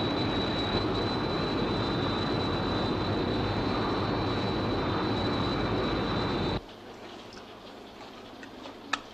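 Sky 1 aircraft in flight from the UFO TV series, a loud steady engine roar with a faint high whine that cuts off abruptly partway through, leaving quiet background.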